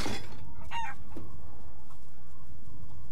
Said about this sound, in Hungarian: Egy csirke.